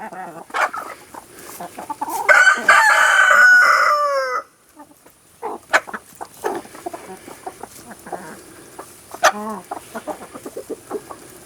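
In a backyard flock, a rooster crows loudly nearby in one long call, then hens cluck and murmur in scattered short notes with brief squawks after it.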